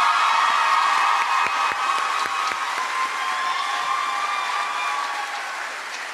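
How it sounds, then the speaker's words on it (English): An audience at a University of Guyana honorary degree ceremony gives sustained, hall-filling applause, a dense wash of clapping with a few sharper individual claps, easing slightly toward the end. "Let us give her a big round of applause,"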